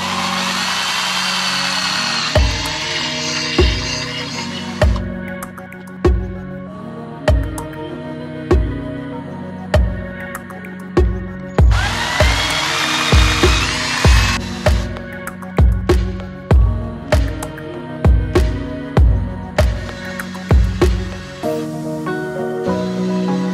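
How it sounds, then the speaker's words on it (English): A power drill boring holes for anchor trolley pad eyes, a series of short whirring bursts repeated in a steady stop-start rhythm with a few longer high-pitched runs, close and loud. "Now the part that gets me every time is deciding to drill the holes."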